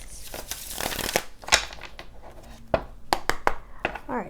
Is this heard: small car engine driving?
no